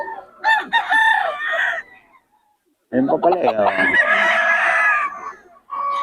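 Roosters crow loudly and close at a Bocaue market, two long calls separated by a brief pause, with clucking fowl and someone speaking briefly between them.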